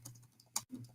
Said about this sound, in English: Let's see. I'm typing.